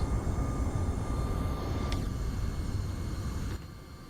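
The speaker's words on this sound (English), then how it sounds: "Those are the reversers." Roar of MD-11 thrust reversers during landing rollout in the X-Plane 12 flight simulator, a loud, broad engine rush that holds steady and then drops in level near the end.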